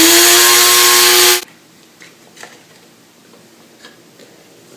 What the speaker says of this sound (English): many people have coffee grinders. So let's do just half of this. We'll just grind it.